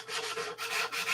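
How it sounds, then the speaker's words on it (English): Close, steady rasping of sandpaper rubbed back and forth over a part of a P-47 model airplane, in short rhythmic strokes with no talk. "sanding."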